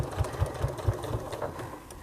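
A sewing machine stitches a bag, giving a short run of soft, quick needle thumps at a steady rhythm, quiet and close with no talk.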